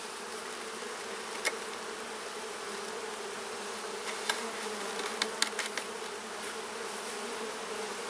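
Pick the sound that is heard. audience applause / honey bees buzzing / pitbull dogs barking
honey bees buzzing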